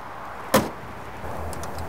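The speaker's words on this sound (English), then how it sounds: "let's check out how this door opens and closes" Door of a 1966 Ford Mustang GT convertible shuts once with a single short, solid thunk against a quiet background hum, followed by faint light clicks.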